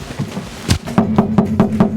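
Knuckles rap on a bare car door skin stripped of its trim, giving a series of about six hollow, rattly, drummy knocks, one early and then five in a steady rhythm, close and clear with no talk.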